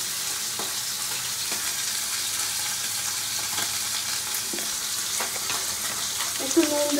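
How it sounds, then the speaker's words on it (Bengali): Fish sizzles steadily in a hot frying pan, a dense crackling hiss that holds throughout at moderate level, with a small clink near the end. "তো মাছগুলো ভাজা হতে হতে"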